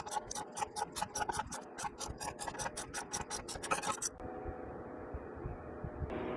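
A 3/8 socket wrench loosens an exhaust pipe bolt by hand on a 2008 Acura MDX, with a rapid run of close, bright ratcheting clicks that stops abruptly, leaving a low steady hum.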